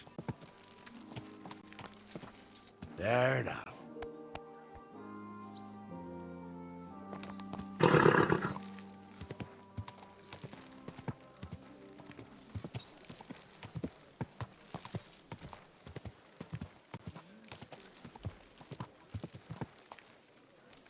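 A horse in the medieval video game Kingdom Come: Deliverance II moves in steady, close hoof clip-clop with loud snorting or neighing bursts along the way, while a brief spoken line is heard.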